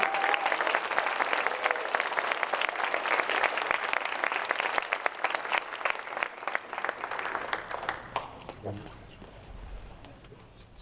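A school audience gives a steady round of applause for student athletes at an MLK essay contest event, clapping fading out near the end as a voice begins.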